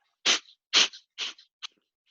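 Four sharp, forceful belly exhales through the nose in a breathing exercise, sneeze-like bursts spaced about half a second apart, each ending quickly, with the last one short and weaker.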